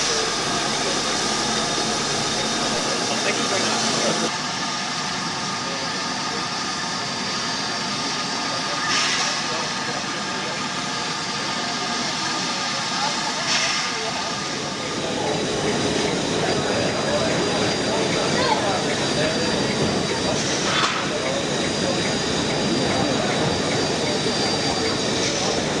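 Steam locomotive 45231 The Sherwood Forester at Carlisle, heard from right at the chimney: a loud, continuous roaring exhaust with hiss and steady rumble, growing rougher and busier partway through.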